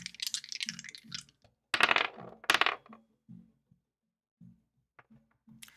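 Astrology dice tumble and clatter in two quick rattling bursts, near and fairly crisp, followed by a few faint taps as they settle in a quiet room.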